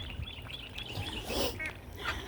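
Ducklings peep and chatter in a busy cluster, with a few louder honking quacks mixed in, close by and continuous.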